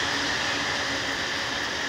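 A steady rumbling roar of a JR train passing nearby in Saitama, Japan, with a constant broadband rush and a faint high tonal whine from the rails.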